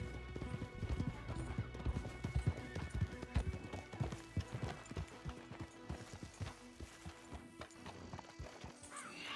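Horses in the video game Red Dead Redemption 2 clatter in a rapid, steady clip-clop of hooves throughout, with a whinny and some crashing thuds mixed into a busy, loud game soundtrack.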